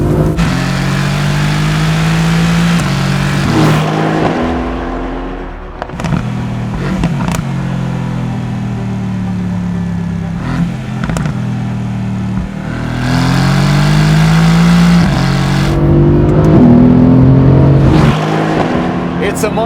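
A Mercedes AMG GT engine revs hard and roars through surging rises and falls, with gear changes, brief drops and renewed acceleration. The sound is loud and close, and a voice speaks at points.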